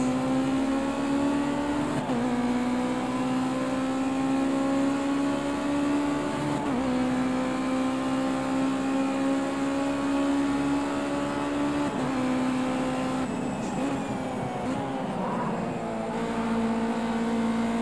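A Ginetta race car engine in Project Cars 2 drones at high revs on a treacherous track, a loud steady whine that dips and climbs with several gear changes, continuous and close with no voices.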